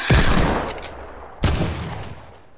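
Gunfire in the Fortnite video game: two loud bursts of rapid shots, the first about a second long, then a sharp second volley, each fading into a ringing tail.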